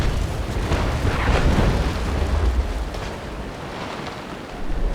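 Broadside cannon fire from a sailing warship in the naval battle game Naval Action, a loud sustained rumbling boom with dense low-end roar that swells and slowly fades, no voices.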